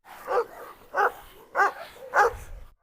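A Cane Corso barks four times in a measured, evenly spaced series, each bark loud and close, with no talking.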